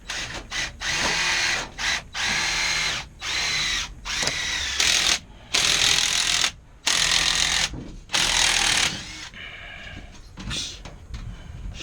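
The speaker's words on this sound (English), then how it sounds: "Swagging at high speed." A drill spins a swaging tool into 3/8 inch copper tubing during an air conditioner evaporator coil replacement: repeated loud, close motor bursts of one to two seconds, split by short pauses.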